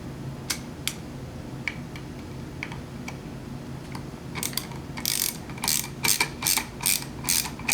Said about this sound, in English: Run these in with the ratchet